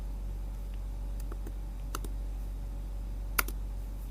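Sparse, soft keystrokes on a computer keyboard tick out in a few light clusters over a steady low hum, ending with one sharper click.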